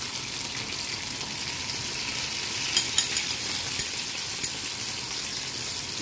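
An egg sizzles in a hot pan for scrambled eggs, giving a steady, moderately quiet hiss of frying with a few small pops and clicks near the middle and no talking.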